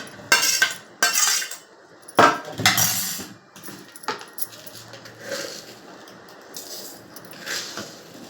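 A spoon scrapes ripe mango pulp into a mixer jar, giving several sharp metallic clinks and knocks close by, followed by softer, lighter scraping and tapping, with no talking.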